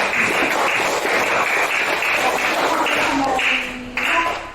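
Students applauding a classmate in a school classroom, a dense continuous clatter of many hands clapping close by, holding steady before thinning toward the end, with faint voices mixed in.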